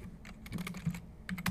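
A computer keyboard's bracket keys are pressed in a quick run of light, close clicks, about a dozen taps in rapid succession with no talking.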